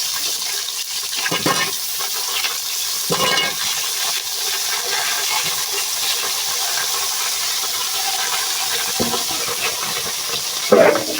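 Dried chillies and bay leaves temper in hot oil for a chicken dish, a steady close sizzle and hiss lasting several seconds, broken by a few louder splashing bursts, with no talk.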